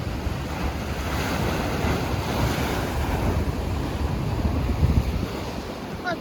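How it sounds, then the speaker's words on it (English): Ocean waves breaking at high tide at Avon by the Sea, a loud continuous wash of surf mixed with gusting wind rumbling against the microphone, with no voices over it. "although it's high tide, there's waves that are breaking down back there."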